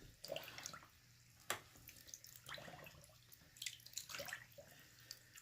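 Alpaca fleece being pushed down into a tub of dirty wash water by hand, giving soft sloshing and dripping splashes in a few irregular bursts, close and fairly quiet with no talking.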